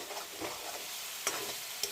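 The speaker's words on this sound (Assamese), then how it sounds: "আৰু তেলত দি অকণমান মই লাৰি আছোঁ।" Onions frying in hot oil sizzle softly and steadily while a utensil stirs them, with a couple of sharp scraping clicks against the pan, close and faint over about two seconds.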